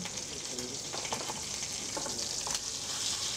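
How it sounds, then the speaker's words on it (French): Lamb searing in a hot roasting pan, a constant loud frying hiss with a few faint scraping and shifting sounds, close up and without voices. "Et dès que la plaque elle chante, on y met l'agneau."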